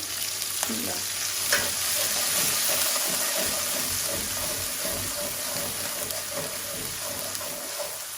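Garlic frying in hot oil in a home kitchen for a village-style regional dish gives a steady, close sizzle with light stirring scrapes throughout, no talk.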